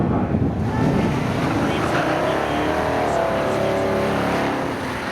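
Roaring engines from a 1982 blue Chevy Camaro and a Chevy C10 in a spectator drag race at Seekonk Speedway, loud and close, with wind buffeting the microphone at first and the noise easing off toward the end.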